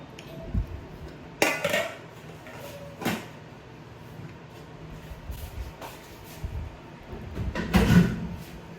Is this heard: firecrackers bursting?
no